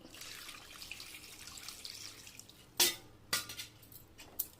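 Water trickles and splashes softly, followed by a few sharper pours and splashes into a cooking pot of mutton curry near the microphone.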